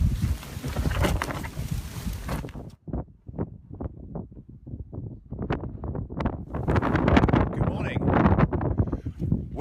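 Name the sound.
wind on open moorland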